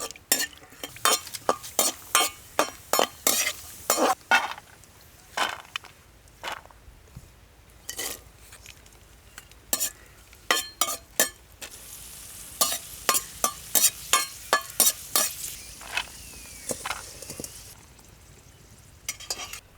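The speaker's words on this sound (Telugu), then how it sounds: "నెయ్యి వేసుకుని జీడిపప్పుని ఎండి ద్రాక్షను వేయించుకుని" Cashews and raisins fry in ghee for temple-style laddu, a soft sizzle under frequent bursts of a metal spoon clinking and scraping against the pan, with a few quieter pauses and a denser stretch of stirring near the end.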